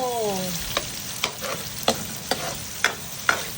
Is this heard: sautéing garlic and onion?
yes